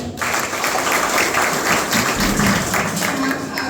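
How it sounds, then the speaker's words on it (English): Steady, close applause rises from a crowd at a school open house as a language teacher is introduced. The clapping stays dense and even for a few seconds. "Can we clap for her?"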